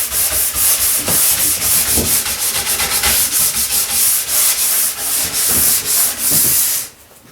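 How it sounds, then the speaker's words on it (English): A nylon brush polishes a freshly waxed ski in steady back-and-forth strokes, a loud, close, continuous rhythmic rubbing that stops abruptly near the end. "we'll take and polish with our nylon brush"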